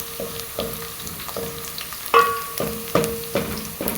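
Kenyan omena frying with onions in a pan, a steady sizzle broken by rhythmic scraping strokes of stirring and a few louder knocks against the pan, no voices.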